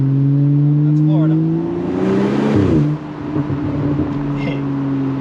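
A BMW 435i M-Sport with an Akrapovic exhaust revs at partial throttle, its exhaust tone climbing sharply to a loud peak, then dropping away and settling back to a steady drone, close and prominent.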